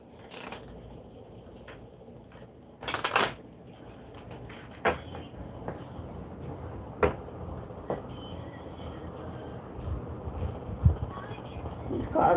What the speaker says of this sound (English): We'll shuffle and get some energy in the deck.